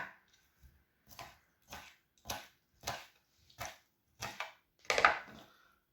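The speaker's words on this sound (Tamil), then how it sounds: "இந்த கனவாய் வந்து இந்த மாதிரி சின்ன சின்ன துண்டு கட் பண்ணி எடுத்துக்கொள்வோம்" A knife chops squid into small pieces on a board, seven or eight steady, evenly spaced cuts, close and fairly quiet, the last stroke sharper and louder.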